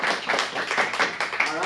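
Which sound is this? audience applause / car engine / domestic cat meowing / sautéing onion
audience applause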